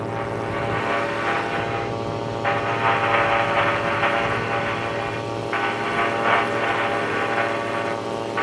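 Buccaneer II amphibious aircraft climbing in flight, its propeller engine droning loudly and steadily from inside the cabin, with a pulsing, wavering tone that swells and eases over the span.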